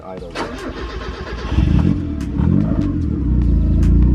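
A turbocharged Mazda Miata engine cranks and catches on its first start, then settles into a loud, slightly rough idle close by.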